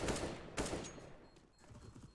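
MP9 submachine gun fire in a competitive first-person shooter match, heard as two loud bursts of rapid shots followed by fainter trailing gunfire and game noise.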